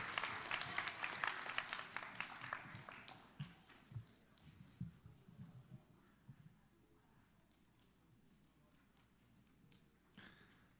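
Scattered audience applause at a high school spoken word poetry event for grades 11 and 12, with a lively burst of clapping at the start that thins to sparse, softer claps and a few late stragglers.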